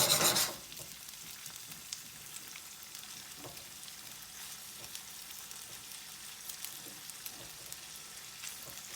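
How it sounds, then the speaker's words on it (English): Portobello mushrooms fry in hot olive oil for an Italian omelette, a quiet, steady sizzle with small scattered pops and crackles after a brief louder burst at the start. "now we're just going to let that heat up and get the portobello mushrooms to wilt"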